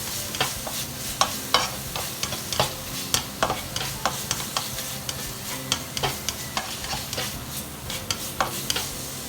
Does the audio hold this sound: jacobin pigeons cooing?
no